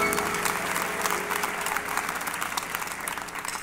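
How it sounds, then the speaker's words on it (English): Church congregation clapping hands together at a Baptist service, a dense steady patter of applause filling the room for the whole stretch, with faint voices underneath. "Come on, clap your hands all over the room."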